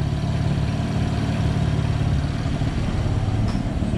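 A BMW M4 fitted with a VRSF single 3.5-inch midpipe idles steadily right after a cold start in efficient mode, a deep continuous low rumble held close and loud throughout with no revving.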